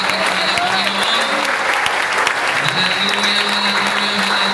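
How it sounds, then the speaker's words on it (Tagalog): A church congregation at an anniversary service applauds loudly and continuously for several seconds, with voices calling out over the clapping. "Mas malakas sa palakpak para sa ating mahal na Panginoon."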